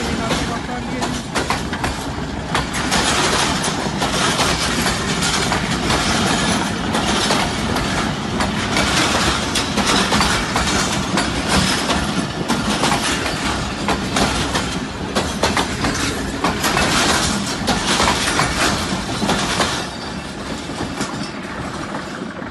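The 130 Down Thal Express passes Massan railway station with a loud, sustained rumble and rhythmic clatter of wagons on rails, steady for about twenty seconds, with voices talking over it.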